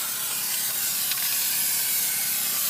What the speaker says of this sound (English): Now I'm going to spray my armaflex too. I'm going to spray my corners